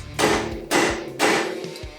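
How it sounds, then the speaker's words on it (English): Three firm, evenly spaced thuds from a rubber mallet tapping a mirror into its fitting on a Harley-Davidson Sportster 48 motorcycle, each blow ringing briefly before the next. "we'll just butt it in with the rubber hammer"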